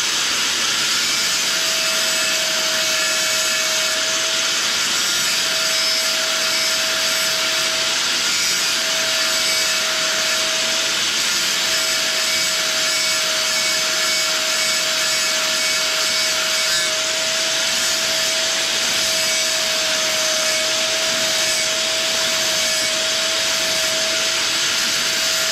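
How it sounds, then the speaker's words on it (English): A cutoff wheel grinds against work on an Axelson gearhead lathe, giving a loud, steady, broadband rush with a constant whining tone. It runs unbroken for about 25 seconds, with nobody talking. "Now that's the cutoff wheel,"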